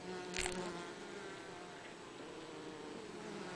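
Honey bees hum at a hive in summer, a steady, faint, dense buzz that runs throughout with no talk.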